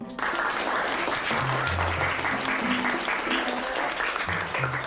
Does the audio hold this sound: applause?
yes